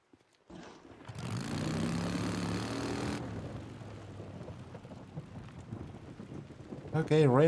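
A loud rumble of thunder rolls in over steady rain in the video game Days Gone, then fades into quieter rain with brief bursts of other game sounds near the end.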